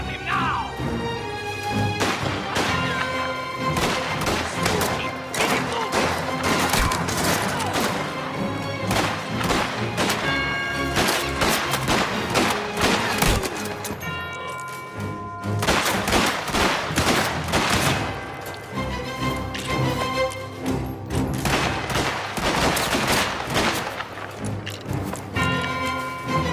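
Sustained gunfight in the video game Mafia: The Old Country, dense bursts of rapid gunfire and impacts running almost without pause over loud game music and effects, with a brief lull midway.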